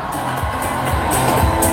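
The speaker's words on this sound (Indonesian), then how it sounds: "Mana suara dan tepuk tangannya?" Rally crowd cheers and claps at a political youth event, a loud, continuous roar of voices and hands with bursts of shouting swelling through, close and dense throughout.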